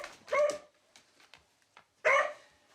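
A household dog barks twice, loud and close, with faint whimpers, yips and small scuffling sounds in the quiet gap between the two sharp barks.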